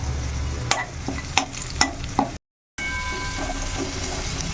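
Whole cloves with sugar and two torn bay leaves sizzle in hot oil for tempering, a steady near frying hiss punctuated by a few sharp stirring clicks, with a brief dropout partway through.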